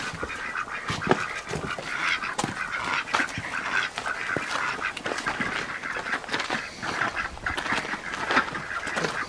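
Farm ducks at a pond at a pioneer farm museum in Eatonville, Washington, quack in a dense, continuous chorus of overlapping calls, close and steady throughout with no talking.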